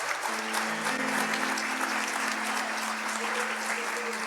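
A church congregation applauds steadily, a dense wash of clapping that holds for about four seconds, with a sustained musical tone underneath.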